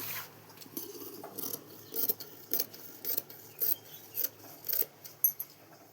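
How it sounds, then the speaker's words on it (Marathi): Scissors cut through Punjabi dress fabric in a regular series of about a dozen short, crisp snips, close by, with no talking. "हे बघा, आता इथं कटिंग मारतोय मी आता पाठीच्या गळ्यात."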